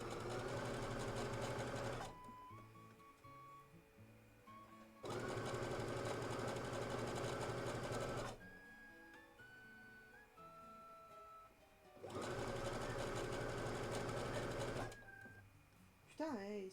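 A domestic sewing machine stitching dress fabric runs in three loud, steady bursts of rapid mechanical whirring, each lasting a few seconds, separated by quieter pauses.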